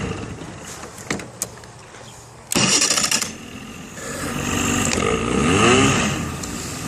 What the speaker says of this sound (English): And then, if I want to punch it, she always stalls.